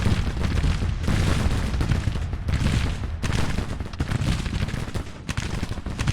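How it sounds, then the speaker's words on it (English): Artillery fire in the Civil War strategy game Grand Tactician: The Civil War comes as a dense, continuous barrage of booming blasts, with repeated heavy thuds and rumbling, and no talking over it. "Well, the artillery is certainly having a go"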